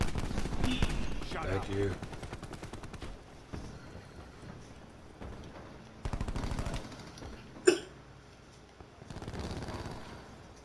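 Gunfire in Call of Duty: Black Ops 4 with the VAPR rifle, heard as rapid automatic bursts in several clusters with one sharp louder report, while a player talks excitedly over and between the shots.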